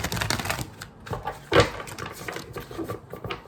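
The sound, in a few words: shuffling a tarot card deck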